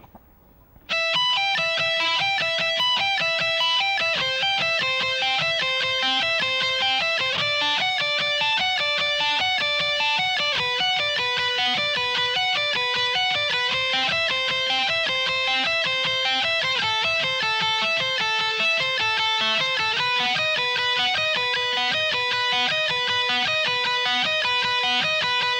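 Slow electric guitar exercise of alternate picking across two strings, a long unbroken run of evenly picked single notes with a distorted tone, steady and alone with no talking.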